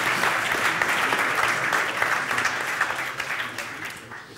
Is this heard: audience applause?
yes